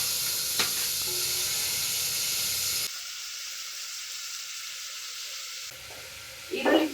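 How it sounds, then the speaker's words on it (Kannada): Onions frying in a pan with salt added give a steady broadband sizzle, interrupted by a quieter stretch and then a short clattering burst near the end, with no speech. "ಈರುಳ್ಳಿ ಫ್ರೈ ಆಗೋಕೆ"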